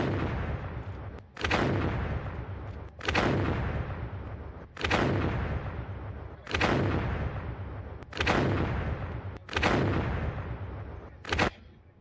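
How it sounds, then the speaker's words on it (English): Naval guns fire in a simulated shore bombardment. About seven heavy booms land roughly every second and a half, each followed by a long rolling tail. They sound distant but powerful, with no voices. "we can hear the sound of gunfire, which is from the simulated shore bombardment being carried out by the naval guns"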